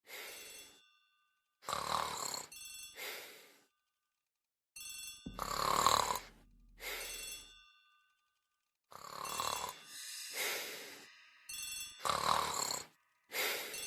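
A telephone in a hall rings in a video game set in an Agatha Christie mystery, several separated bursts of bright trilling bell rings with silent gaps between them, fairly quiet overall.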